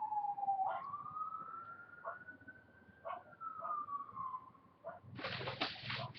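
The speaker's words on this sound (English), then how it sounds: "it's a fire engine going by, or an ambulance or something." An emergency vehicle siren, from a fire engine or ambulance passing by, wails faint and distant as a slowly rising and falling tone, with birds and a dog faintly around it and a brief rush of noise near the end.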